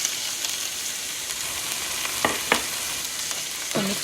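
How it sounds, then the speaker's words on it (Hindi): Tomatoes going into sizzling fried ginger garlic paste for masoor daal with brinjal, a steady close frying hiss broken by a few sharp spoon knocks and stirring scrapes, with no talk. "जिंजर एंड गार्लिक के पेस्ट को हल्का सा यहाँ पर भूनने के बाद अब हम इसमें अपने टोमेटोज़ ऐड कर देंगे"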